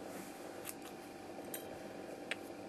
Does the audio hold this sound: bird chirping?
no